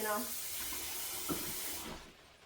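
Water gushing from a tap in a steady hiss, nearby, tapering off as it is shut.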